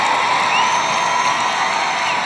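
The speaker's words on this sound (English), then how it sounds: "And the crowd loves the Xolo tonight." Arena crowd at a dog show cheers and whoops for a Xolo (Xoloitzcuintli) in Non-Sporting Group judging, a steady loud roar of voices with scattered shouts and some applause throughout.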